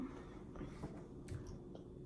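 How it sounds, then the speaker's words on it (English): A decorated Christmas cookie being eaten, with quiet close-up chewing and a few soft crunchy bites over a faint room hum. "Munch and crunch"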